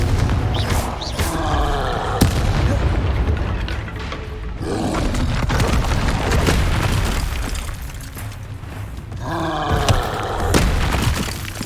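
Confringo fire-spell blasts in the Hogwarts Legacy video game, loud booming explosions with rumbling and crackling debris that recur through the scene, with short shouted spell calls between them.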